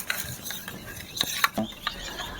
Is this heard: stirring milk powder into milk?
yes